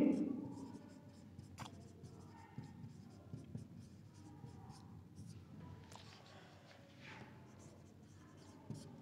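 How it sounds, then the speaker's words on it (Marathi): Chalk or marker scratches and taps on a board as a teacher writes during a geometry lesson, in quiet, close strokes with a faint voice speaking in the background. "म्हणजेच इथं लिहितो मी"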